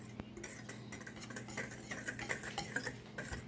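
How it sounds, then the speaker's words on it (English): Biscuit dough being stirred by hand in a bowl, with soft, faint scraping and light ticking of the utensil against the bowl in an uneven rhythm, quiet and close. "I'm just mixing it up like so and making sure that it's well combine in the bowl"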